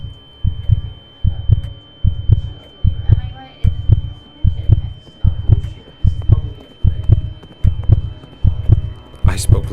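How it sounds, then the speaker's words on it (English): A loud, steady heartbeat thuds in regular double pulses, about one beat per second, close and prominent against a faint hum. "I spoke louder to drown out the sound of the heartbeat."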